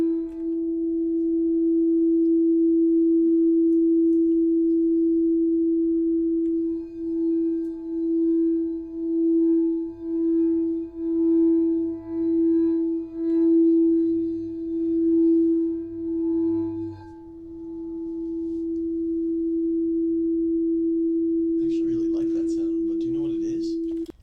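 A singing bowl rings with a steady, pure sustained tone and faint overtones, swelling and pulsing rhythmically through the middle as it is rubbed, then holding evenly; a brief rustle enters near the end. No speech.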